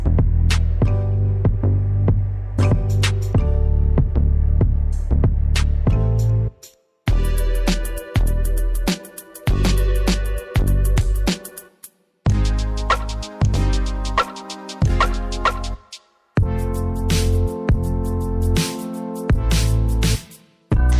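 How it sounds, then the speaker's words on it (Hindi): An electric grinder runs loud and close while grinding herbs and mint into powder, its motor hum pulsing in several long bursts separated by brief silent pauses. "इन सारी चीज़ों को आपने अच्छी तरह किसी ग्राइंडर वगैरह में ग्राइंड कर लेना है, सफ़ू बना लेना।"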